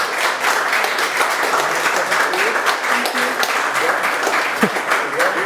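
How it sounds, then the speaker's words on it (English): A conference audience applauds steadily for several seconds after a presentation, a dense wash of clapping filling the room. "Can I have a big applause for both presenters?"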